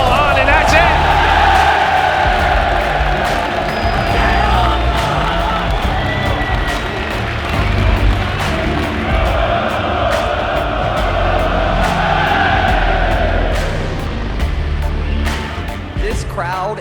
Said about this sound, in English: This crowd is amazing. Best crowd I've ever played for.